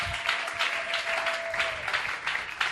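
A church congregation applauding and cheering for Jesus during a Tuesday sermon, steady mid-distance clapping from a crowd with a faint sustained tone beneath, no voices standing out.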